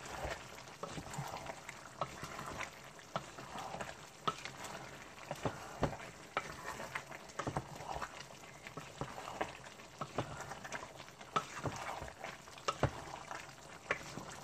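Turnip pieces tumbling into a pot of simmering potato stew with onion, a soft continuous bubbling and sizzling with repeated knocks and clinks of ingredients and utensils, faint and close, no talking.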